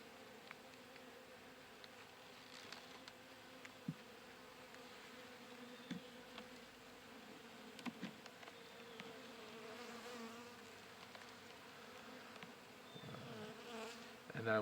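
Honey bees drone in an opened hive troubled by EFB, a steady layered buzz close by with occasional louder passes and faint handling knocks.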